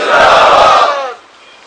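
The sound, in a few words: crowd chanting religious slogans in response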